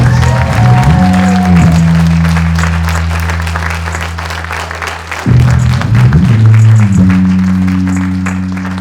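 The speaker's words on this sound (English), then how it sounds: "Another round of applause for Tena Carlin" A live comedy showcase audience applauds a comedian as her set ends, a dense, sustained wash of clapping that carries through nearly nine seconds alongside steady background music, briefly dipping midway before swelling again.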